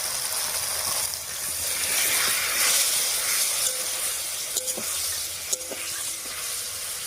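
Potatoes and masala paste with a little water are sautéed in a pan, giving a steady close sizzle and hiss with light scraping stirs and a few clinks from a spoon.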